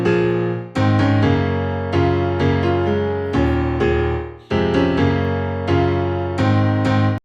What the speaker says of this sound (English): So this piano in its default state default stage sounds like this